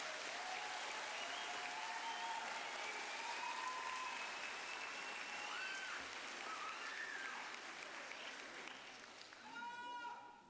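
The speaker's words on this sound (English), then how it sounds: "one more round of applause for the class of 2018" A crowd at an eighth-grade recognition ceremony gives the graduating class a long round of dense, rain-like applause, with shrill whistles and cheers rising over it before it tapers off near the end.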